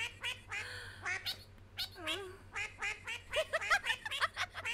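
Cartoon ducks quacking in a rapid, uneven series of short nasal calls, with a longer squeaky call near the start, over faint background sound in an SMG4 cartoon.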